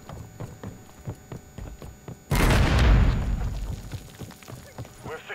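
A frag grenade going off in a Modern Warfare 3 6v6 multiplayer match: one sudden loud, broad blast that rumbles and decays over a few seconds, with game sounds before and after.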